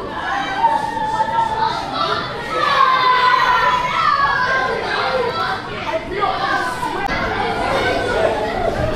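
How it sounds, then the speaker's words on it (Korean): Children chatter and play in a busy PC gaming room, a dense, continuous babble of young voices with shouts and laughter close by. "이 애들 떠드는 소리 들리시죠?"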